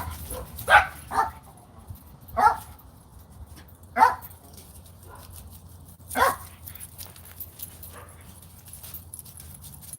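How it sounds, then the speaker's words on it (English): Scattered single barks from a dog ring out every second or two, somewhat distant, with quiet stretches between them. "So sorry if you hear my dogs barking outside today."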